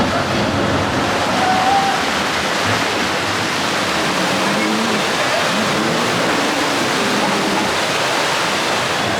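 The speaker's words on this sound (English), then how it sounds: "Now here's the rapids." Rushing water of a rapids ride at Knott's Berry Farm, a steady, loud broadband roar of churning and splashing that continues without pause throughout.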